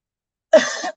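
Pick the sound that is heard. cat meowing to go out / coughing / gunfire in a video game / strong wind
coughing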